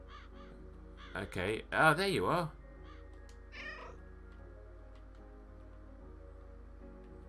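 A crow caws in the video game Calico, a few harsh calls in a quick cluster, loud and close over soft game music, with a person speaking briefly around them.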